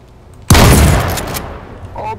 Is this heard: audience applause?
no